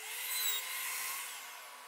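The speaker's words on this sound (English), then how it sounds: "I'm going to do a test cut first" A table saw runs up for a test cut in wood, giving a brief, steady, high-pitched whine that swells slightly and then fades, heard alone at moderate distance.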